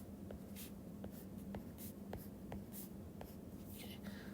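Pen scratching on paper while sketching the pyridine ring by hand: quiet, close short strokes and taps in an irregular rhythm over a faint steady hum.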